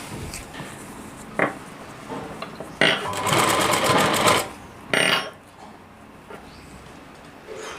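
Sewing machine stitching the lining onto a heavy-work Rajputi poshak lehenga, running in several short bursts and one longer loud run, with brief pauses between, close up.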